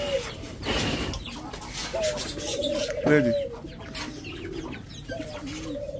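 Budgies chirp and twitter in short bursts while eating seeds, including sunflower seeds, over steady background noise, with a voice speaking briefly.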